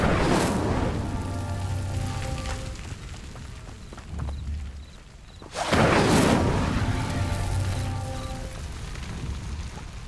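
A fire spell cast in the Hogwarts Legacy video game gives two loud whooshing bursts over a steady game background, the second surging in about midway and sustaining as a roaring blaze.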